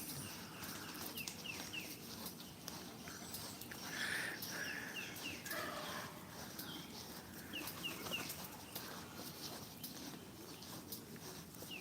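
A pet bird calls outdoors in short, bright, repeated chirps that stand over a low, steady background hum, fairly close and moderately loud, with no speech.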